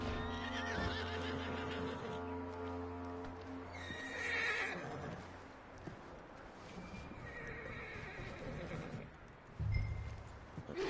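A horse in Red Dead Redemption 2 gives a loud wavering neigh and whinny, with hoof clip-clops and game sounds around it, a voice speaking briefly in between.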